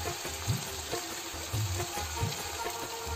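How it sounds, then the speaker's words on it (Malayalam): Spicy chicken curry being stirred in a hot pan, with soft scraping strokes and faint sizzling bubbling under a steady background hiss, close and fairly quiet, no talking. "ഇതൊന്ന് ഇളക്കി കൊടുക്കുക."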